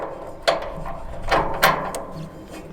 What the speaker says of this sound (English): So I'm going to go ahead and reinstall the new shock.